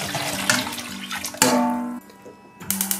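Water pours into a cooking pot holding washed hawthorn berries, a close rushing splash in bursts that stops briefly and then resumes, heard without speech.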